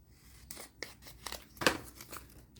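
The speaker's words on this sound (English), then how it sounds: "So I'm going to cut this part off." Paper being cut with scissors during a decoupage collage project, a few quick snipping and crisp paper-rustling bursts close up, with one sharper cut in the middle and no voices.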